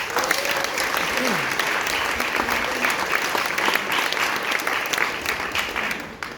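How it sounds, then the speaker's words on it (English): An audience at a school awards ceremony claps for a sustained stretch, a dense, fairly loud wash of applause with a few voices mixed in, fading toward the end. "let's just give him another clap"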